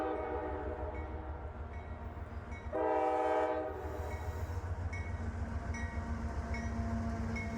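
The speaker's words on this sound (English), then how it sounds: "The first train we'll see is a northbound tanker at Lambs Ferry." A northbound tanker freight train at Lambs Ferry, Kentucky rumbles steadily with a deep engine drone, and its horn sounds once in a loud, roughly one-second blast before the rolling noise continues.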